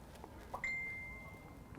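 A phone gives a single clear chime to sound the hour, a sharp ringing tone that rises suddenly and slowly fades under quiet room noise.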